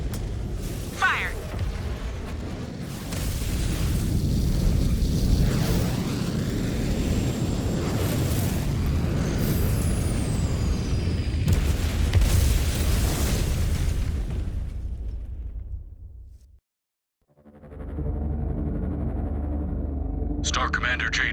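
Loud, sustained explosions and rumbling blasts from a video game shootdown of the aircraft Gazelle 319, a broad roar with crackling bursts that drops to a brief silence before more rumble returns.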